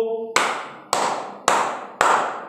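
Four crisp hand claps in a steady beat stand in for letters of the Bingo song in a Class 5 English lesson, coming right after a brief sung syllable, each one close and distinct.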